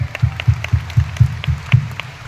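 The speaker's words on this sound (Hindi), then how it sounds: "मैं चाहूंगा एक बार जोरदार तालियां उनके लिए।" An audience claps for a company's managing director in a steady, rhythmic beat of about four claps a second, loud and close, with no speech over it.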